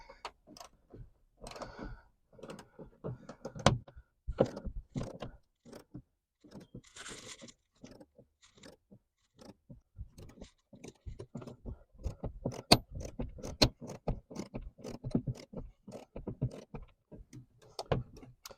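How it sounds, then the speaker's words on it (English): Tamper-proof T40 Torx bolts are loosened on the top of a Ford Bronco, giving sparse clicks, ratcheting ticks and metallic taps in irregular bursts, close and fairly quiet with gaps between. "It is a tamper-proof T40 Torx. So let's see how hard these are to get loose."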